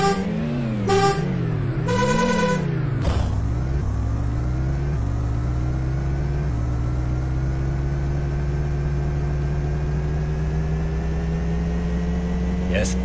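Lotus Esprit Turbo Challenge racing game by Gremlin Graphics on the Amiga: a loud, steady synthesized engine drone rising in pitch as the car accelerates, with warbling chip tones early on.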